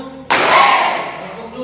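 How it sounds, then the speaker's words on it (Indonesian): A classroom of students claps once in unison during a rhythm clap game: one loud, sharp collective clap that rings briefly and decays into room noise. "Ulang, tepuk satu."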